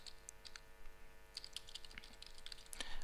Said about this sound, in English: Checkboxes, my typing's bad.